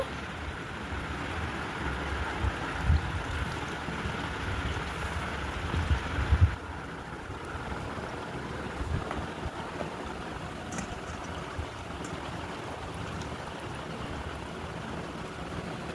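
Running water splashes steadily over bread slices as they are rinsed at home, a continuous near wash with a brief louder surge before settling into an even flow.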